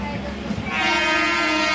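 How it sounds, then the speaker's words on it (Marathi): A passenger train departing on a journey toward Konkan sounds its horn, a loud, sustained tonal blast that starts partway in and holds to the end over rumbling rail noise. "फायनली ट्रेन सुटलेली आहे."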